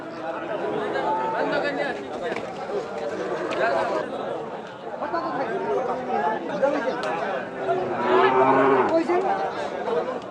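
Cattle at a crowded Panchagarh cattle market, with young bulls and calves for sale; lowing moos rise now and then amid steady crowd chatter and close-by talking throughout.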